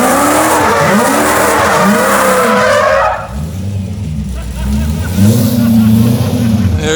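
Ford Bronco engine on nitrous revving hard, loud and close, a roaring rise that drops off then surges again, with a voice talking over it.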